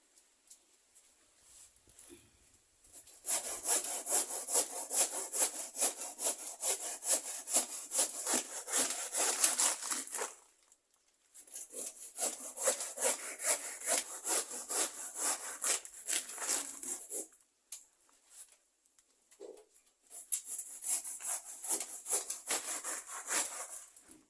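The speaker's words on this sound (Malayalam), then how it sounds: "നമുക്കവനെ ഒന്ന് വെട്ടി അരിഞ്ഞെടുക്കാം നമ്മൾ വളരെ ആധുനിക രീതിയിലാണ് കേട്ടോ ഇത് ചക്കയെന്ന് കട്ട് ചെയ്യുന്നത്" A whole jackfruit being sawn through in three long bursts of fast, rhythmic rasping strokes, close and loud, separated by brief pauses.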